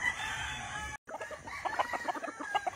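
Several fighting cocks on a big farm in the Philippines crow and cluck. A loud crow is cut off by a short break, then rapid clucking and calls follow close by, with overlapping birds.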